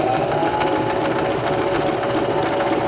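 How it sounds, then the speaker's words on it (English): A Singer Start 1304 sewing machine runs loud and steady while stitching the side of a buttonhole, a continuous close mechanical whir with no pauses. "And now we can continue sewing, and this will sew the right side of our buttonhole."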